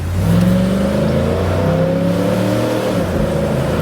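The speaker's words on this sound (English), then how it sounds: "that's a nice torquey feel from that V8" A Cadillac Allante's V8 engine accelerates steadily, its pitch rising across several gear-like sweeps. The sound is loud and close, with no talk over it.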